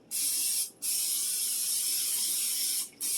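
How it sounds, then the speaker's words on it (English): Two long bursts of cooking spray hiss close by onto a bundt pan, separated by a brief pause, then a short final puff. "Now we're going to spray the Bunt pan"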